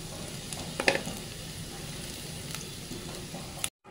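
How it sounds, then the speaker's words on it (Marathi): Onion and grated coconut roasting in a hot pan, giving a steady close sizzle with a few brief clinks and scrapes of stirring before it cuts off. "आता आपण खोबरं घालून घेऊन हे लालसर पूर्ण भाजून घेणार आहोत।"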